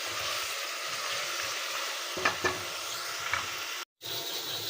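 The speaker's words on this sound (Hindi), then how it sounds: "और ये फिर गोश्त इसमें डलेगा और ये तला जाएगा" Meat frying in oil in a cooking pot for an almond qorma, with a steady sizzling hiss throughout, a couple of sharp stir or scrape clicks, and a brief break in the sound near the end.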